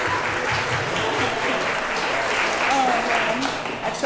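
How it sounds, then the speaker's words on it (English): Steady applause from wedding guests honoring the maid of honor, continuous clapping at an even level throughout with faint voices underneath. "Extra round of applause for the best maid of honor."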